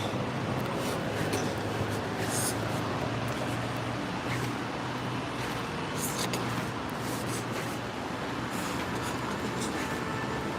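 Trams rumble through a busy street intersection in Zurich, a continuous heavy rolling rail noise with occasional screeches and clatter, mixed with city background noise.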